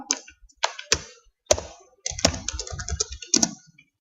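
Fingers type on a computer keyboard in quick irregular bursts of sharp, close clicks and taps, with brief pauses between clusters.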